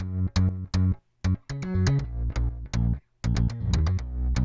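Deep synth bass and plug-in electric bass play a punchy rhythmic line together, short plucked notes with brief gaps, loud and up close with no voices.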